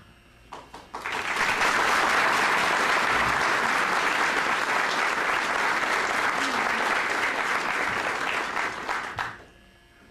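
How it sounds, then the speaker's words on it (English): An audience at a 2008 city candidates' debate in Farmers Branch applauds after an opening statement, a burst of sustained clapping that swells quickly, holds for several seconds, then fades out. "Let me suggest that we'll have applause after this opening round"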